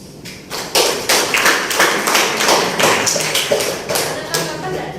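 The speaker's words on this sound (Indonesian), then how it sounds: "Beri aplaus" Classroom applause from a group of students, a dense burst of many hands clapping that starts abruptly and continues steadily for several seconds, fairly close and loud.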